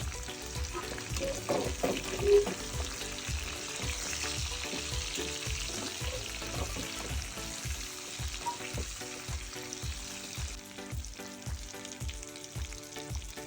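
Eggplant and curry leaves fry in a hot pan for a village-style Maharashtrian baingan bharta, with a steady close sizzle and a regular rhythm of spatula stirring strokes throughout.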